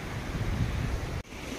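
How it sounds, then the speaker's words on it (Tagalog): Strong wind gusts roar across the microphone by the sea at Capaluhan, with waves washing beneath, loud and continuous apart from a brief dip near the end. "Dahil sa sobrang lakas ng hangin, baba na tayo."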